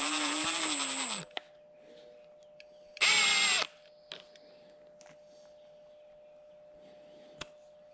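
A power drill whirs in two short, loud bursts while removing the weather stripping screws on a Mazda Miata, with quiet clicks and taps between bursts over a faint steady hum.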